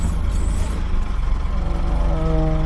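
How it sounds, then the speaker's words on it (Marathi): A truck pulls in at a roadside stall on a night drive from JNPT to Goa. Its air brakes hiss briefly at the start and the engine rumbles steadily, close and loud. "मी आतमध्ये गाडी टाकतोय"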